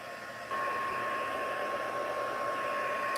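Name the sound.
heating tool drying glue on back of a card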